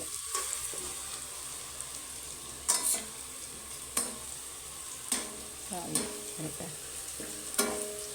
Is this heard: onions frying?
yes